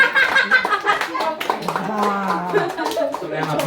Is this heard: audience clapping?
yes